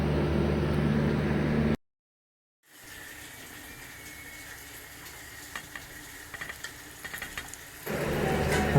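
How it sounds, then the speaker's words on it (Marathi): Onion fries in a pan with garlic and ginger for a prawn masala, a steady hiss of sizzling with occasional crackles and pops, broken by a brief silence near the start. "त्यामध्ये जरा थोडा कांदा टाका आणि कांदा तो पण परतून घ्या जरा लालसर होईपर्यंत"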